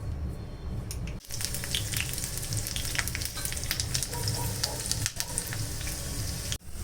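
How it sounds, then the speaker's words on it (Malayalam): Green chillies fry in hot coconut oil with a steady, loud close sizzle, crackling bursts and brief stirring pauses, no voices over it. "നമ്മളിങ്ങനെ പച്ചമുളക് ഇങ്ങനെ എണ്ണയിൽ വറുത്തിടുന്ന സമയത്ത് നല്ലൊരു പച്ച കളർ കിട്ടും"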